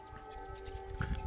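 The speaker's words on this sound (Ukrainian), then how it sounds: "Лунає повітряна тривога." A steady, droning air raid siren tone holds at a fixed pitch in the distance near Kharkiv, Ukraine, with faint rustling and a few soft thumps near the end.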